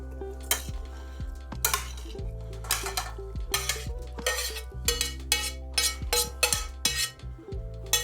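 Cooked rigatoni is tossed with crispy bacon and cheese in the pot the pasta was boiled in: a metal utensil clanks and scrapes against the pot in a quick, uneven rhythm of close, bright knocks.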